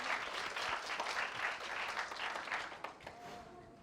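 A crowd at a youth camp concert gives another round of clapping for a speaker on stage, a dense, lively burst that holds steady before thinning out near the end.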